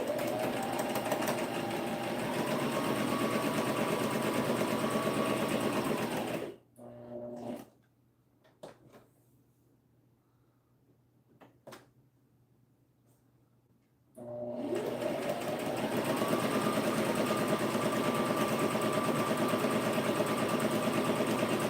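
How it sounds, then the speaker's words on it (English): Sewing machine chain sewing fabric pieces without cutting the thread, running in long steady bursts of loud motor whir at start and end, with a quiet pause in the middle broken by faint clicks. "You can also do what's called chain sewing, where you don't even cut the thread,"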